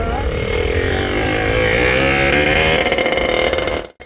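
Roaring go-kart engine on a track, loud and continuous with a steady revving drone that holds for several seconds before cutting off abruptly near the end.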